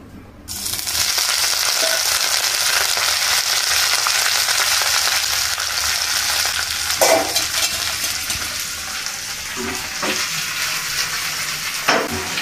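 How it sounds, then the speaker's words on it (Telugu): Washed mint leaves dropped into a pan of hot oil, bursting into a loud sizzle that holds steady, with a few spoon clinks and stirring scrapes breaking through near the middle and end. "ఆయిల్ కాస్త వేడయ్యాక కడిగి పెట్టుకున్న పుదీనాను వేసి వేయించుకోవాలి."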